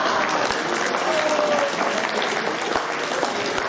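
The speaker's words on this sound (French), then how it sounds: "On applaudit bien fort, Victoire." Steady, sustained applause from the crowd at a Christmas event with Father Christmas handing out balloons and sweets to children, even and continuous clapping with light crowd murmur underneath.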